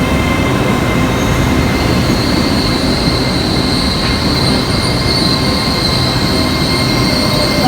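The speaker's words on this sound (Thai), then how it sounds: "ตอนนี้รถไฟกำลังออก" A loud departing train in London rolls along with steady rumbling, rattling wheels and a sustained high squeal, heard from inside or right beside the cars.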